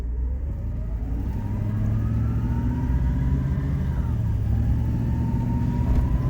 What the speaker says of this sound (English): I'll take it out here and see how it goes through the gears.